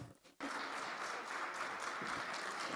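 After a brief quiet moment, a conference audience breaks into sustained applause for a presenter. The clapping is soft and distant but continuous through the end.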